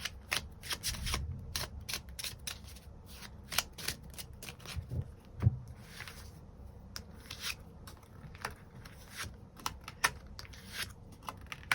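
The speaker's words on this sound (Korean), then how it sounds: "추가 카드 뽑아보도록 하겠습니다" Tarot cards shuffled to draw extra cards for a weekly reading: steady close riffling and light flicking and tapping of the deck, fairly quiet, with no voices.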